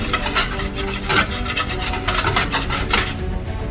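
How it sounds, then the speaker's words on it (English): Butter mixture is whisked briskly in a bowl, a rapid rough scraping and rubbing that pulses with each stroke, close up and alone. "and then you want to whisk it around, make sure it's even"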